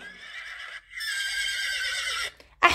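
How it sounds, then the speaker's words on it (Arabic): A horse neighs loudly and close, a long whinny with a brief break partway through, followed by a short burst of another sound at the end. "أيضا صوت الحصان"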